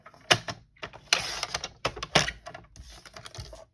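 Cardstock cut down to 3x4 inches for stamping, with close, sharp clicks, scrapes and short papery sliding bursts in an irregular sequence and no talking.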